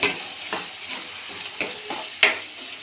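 Onions and tomatoes frying in a pan, a steady sizzle broken by several sharp stirring scrapes and clinks from a spoon, close and fairly loud, with no talking.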